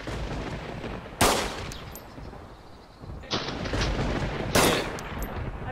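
Gunfire in the video game DayZ: two sharp, loud shots about three seconds apart, then a third blast, over a steady background hiss.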